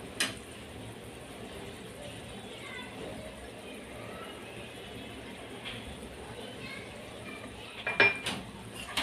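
Cashew paste being mixed into a white chicken seekh gravy in a kitchen pan, with soft spoon scrapes and clinks against the cookware, a few louder knocks near the end, over low background noise and no talk.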